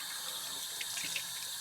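Tap water running steadily while shampoo is rinsed out of a beard, a close, even splashing hiss with faint dripping, no voices.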